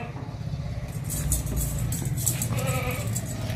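A healthy young nanny goat that has recently kidded for the second time bleats in short, wavering calls amid a farm yard, fairly close and moderately loud, with faint background noise.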